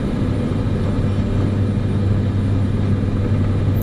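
An aircraft engine powering up for takeoff in Microsoft Flight Simulator 2024 gives a loud, steady, unbroken drone with a low hum beneath it.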